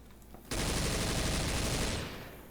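Sustained automatic gunfire in the video game Left 4 Dead 2, a loud, dense burst of rapid shots lasting about a second and a half before trailing off, with no voices over it.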